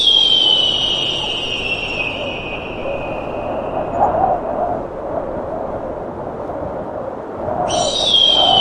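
A bald eagle's high-pitched call rings out from open sky over a wild northern forest, a sustained shrill tone at the start returning near the end, over a steady low background of wind and ambient noise.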